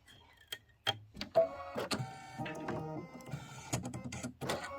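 Small, quiet ticking and whirring from an embroidery machine stitching a Kimberbell quilt block, with irregular bursts of needle taps and brief pauses, close and fairly soft.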